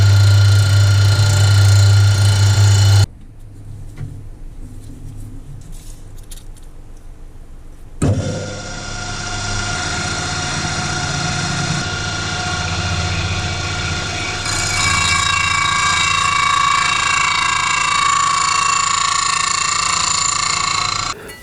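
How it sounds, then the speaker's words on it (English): Metal machining on an aluminium cylinder head being squared and levelled for heat treating: loud, continuous cutting with a harsh high-pitched whine, broken by a sudden drop to quiet, then the cutting resumes steadily. "time to start cutting some metal"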